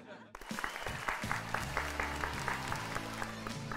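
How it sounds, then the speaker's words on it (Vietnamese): A studio audience on a Vietnamese talk show breaks into steady applause after a brief pause, dense and sustained throughout, with music underneath. "Lâu lắm mà mới được vỗ tay."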